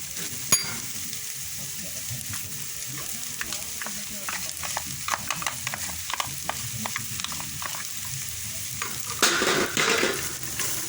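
Garlic, ginger and coconut powder frying in a pan for ponnaganti greens, a continuous close sizzle broken by frequent stirring scrapes and taps, swelling louder near the end.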